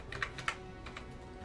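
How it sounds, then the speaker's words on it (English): A few sharp clicks from a sticking computer keyboard key pressed repeatedly, two louder presses early followed by softer ones, close up over a low background hum. "my key gets stuck when I push it."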